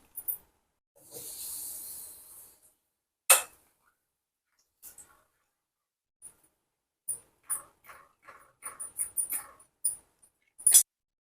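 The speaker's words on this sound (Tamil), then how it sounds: "இப்போ எண்ணெய் காஞ்சிருச்சு அப்பளத்தை பொறிச்சு எடுத்துக்கலாம்" Papad (appalam) frying in hot oil in a kadai, giving short hissing and crackling bursts, a longer sizzle early on, then scattered quick spits and pops separated by quiet gaps.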